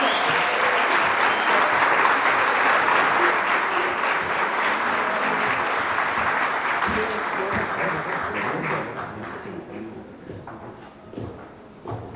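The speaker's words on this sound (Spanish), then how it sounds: "Un fuerte aplauso, por favor" Strong, sustained applause greets the son jarocho musicians of Mono Blanco at a book presentation. Many hands clap densely for several seconds, then the sound gradually thins and fades toward the end, with faint crowd murmur mixed in.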